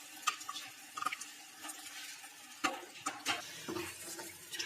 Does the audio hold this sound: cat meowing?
no